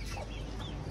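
Soft, muffled clucking of native chickens, steady and close, with a dense low background noise throughout the short moment.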